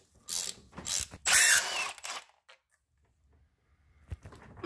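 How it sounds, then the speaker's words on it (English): Ratchet tightening bolts on a Ford Focus ST engine: a few quick bursts of close, loud clicking with short gaps, then quiet with faint handling noises and one last click. "by hand before you torque them with a ratchet"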